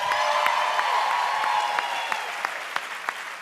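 Steady applause from an audience fills the room, a dense wash of clapping with a few sharper individual claps standing out as it slowly tapers.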